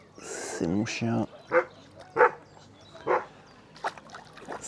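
A dog barks in several short, sharp yaps spaced about a second apart, mid-distance, with a voice talking in the background.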